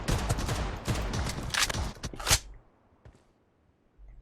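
Desert Eagle pistol shots ring out in PUBG Mobile, a quick series of loud, sharp reports for a couple of seconds before falling to near silence.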